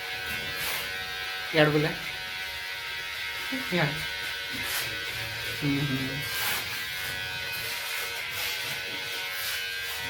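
An electric hair clipper buzzes steadily through a night-time haircut in a village, a constant mid-level hum running beneath men chatting nearby.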